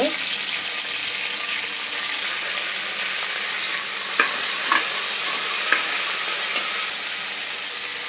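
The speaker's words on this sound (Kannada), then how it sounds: "ಈಗ ಇದಕ್ಕೆ ಎಣ್ಣೆ ಬಿಸಿ ಆದಮೇಲೆ ಈ ತೊಗೊಂಡಿರುವ ಮಸಾಲ ಐಟಮ್ಸ್ನ ಹಾಕೋಣ ಅದೇ ರೀತಿ ಸ್ವಲ್ಪ ಕರಿಬೇವು ಇದನ್ನ" Masala spices and curry leaves frying in hot oil give a loud, steady sizzling hiss, with a few faint clicks of a utensil against the pan and no voices.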